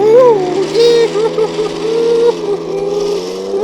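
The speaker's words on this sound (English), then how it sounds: "So I'm going to rev this tractor up a bit here." An RC model DT75 tractor's engine sound revs with a buzzy, rising and falling whine, close by and fairly loud, while a person lets out a brief exclamation over it.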